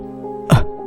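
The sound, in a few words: person coughing, sound effect in horror story narration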